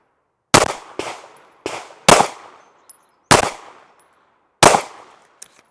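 A SIG P365 XMacro pistol fires Gold Dot 124 grain rounds outdoors, six sharp loud reports spaced irregularly over several seconds, each with a short ringing decay, no talking.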